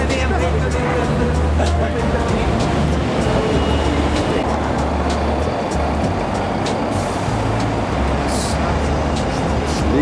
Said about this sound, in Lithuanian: Vykstame į Porto geležinkelio stotį.